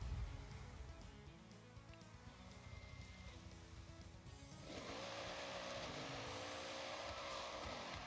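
Noble M600 supercar driven in the Forza Horizon 6 racing game, a continuous engine drone that swells louder partway through with rising and falling pitch sweeps, mixed with game sound and no talk.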